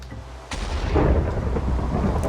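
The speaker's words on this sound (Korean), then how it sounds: "번개도 치네" Thunder in Minecraft during a Hypixel build battle game: a sudden loud crack followed by a sustained deep rumble with rain-like hiss, heard alone without talk.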